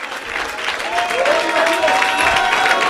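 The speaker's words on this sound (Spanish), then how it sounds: "Un aplauso para el Señor." A church congregation at an evangelism gathering in Bonaire applauds for the Lord, a dense, continuous wash of clapping from a crowd that builds slightly and holds steady, with faint voices mixed in underneath.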